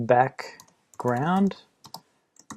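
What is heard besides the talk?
typing on a computer keyboard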